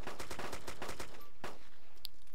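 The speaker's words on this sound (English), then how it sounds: "Oh, double barrel shotgun again. Did you hear that? Double barrel shotgun." Double-barrel shotgun firing in Arma 2 DayZ, heard as a rapid string of sharp gunshots followed by one more loud blast, close and dominant over a faint background with no talk.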